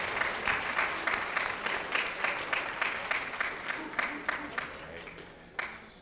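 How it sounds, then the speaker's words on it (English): Students at a high school academic awards ceremony applaud their parents, a dense, steady round of clapping filling the room, moderately loud and tapering toward the end. "if all the students could just give their parents a round of applause right now"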